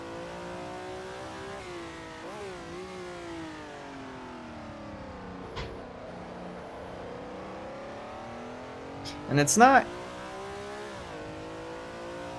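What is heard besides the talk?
Ferrari 330 P4 engine accelerating while driving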